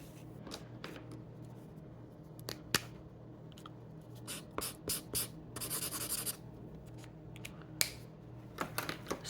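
A pen or pencil draws on an ordinary sheet of paper in quick scratchy strokes, some short and some sustained, close and quiet with no voices.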